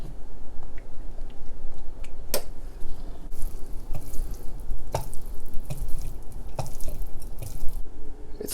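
Sesame oil is poured over raw shrimp in a kitchen, a soft continuous trickle with scattered small drips and clicks close by.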